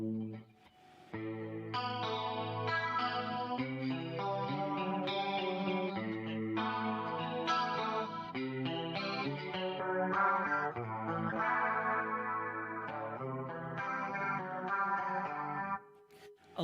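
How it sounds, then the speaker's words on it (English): An electric guitar played through a Fractal FM3 with a classic 1980s chorus effect rings out alone, sustained shimmering chords and arpeggiated notes, moderately loud and steady for about fifteen seconds before fading. "I want a classic 80s chorus sound,"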